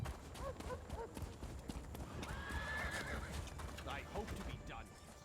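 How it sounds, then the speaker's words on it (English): Horses in the video game Elder Scrolls Online clip-clop and neigh with a couple of whinnies, fairly quiet beneath a man's conversation. "The horses are ready."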